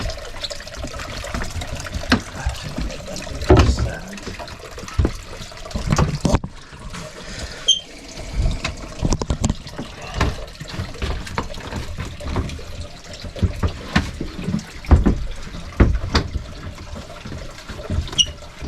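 Water leaking into a boat splashes and trickles steadily with scattered knocks and clunks, a wet, busy sound close by with no talking.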